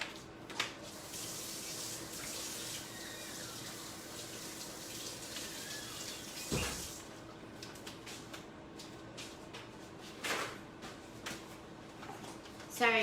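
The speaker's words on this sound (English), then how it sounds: "I'm gonna wash my hands real quick." A tap runs as hands are washed at a kitchen sink, a steady rush of water lasting many seconds with splashes and clunks around midway and near the end, with a voice talking faintly over it.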